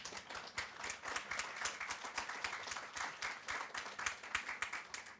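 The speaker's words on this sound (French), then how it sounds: "Applaudissements pour ces lectures" Audience applause breaks out after a set of poetry readings, a steady wash of many hands clapping for about five seconds with no voices over it.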